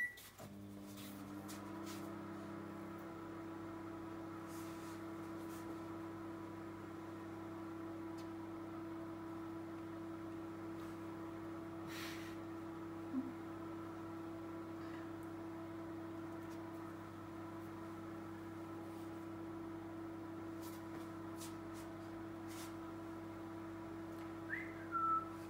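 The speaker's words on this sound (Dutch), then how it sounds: "We gaan het eerst 30 seconden in de oven doen." A microwave oven hums steadily with a constant whine while it cooks a chocolate cake in a mug, a long even drone in a quiet kitchen with a couple of faint clicks.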